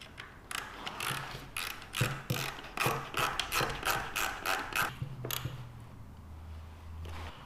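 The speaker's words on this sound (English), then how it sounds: "I'm just gonna start these with a screwdriver," A hand screwdriver starts stainless steel screws into a bracket inside a trailer, producing a rapid series of close, crisp ratcheting clicks in bursts that fade to quiet by the end.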